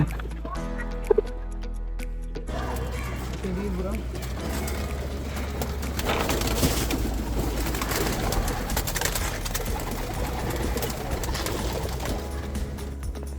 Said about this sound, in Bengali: ইকরামের জন্য আমি এই নর কবুতরটা সিলেক্ট করি